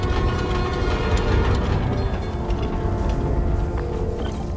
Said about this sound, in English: Trusty New York subway.